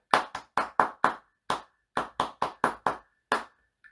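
Hands clap out a rhythm, twelve crisp, close claps in irregular groups with short pauses between them, alone and sharp against silence.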